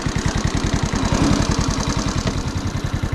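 A Honda Cub motorcycle's small single-cylinder engine chugs close and loud with a steady rapid pulse. Its note shifts slightly as it is knocked into gear, and there is no talking.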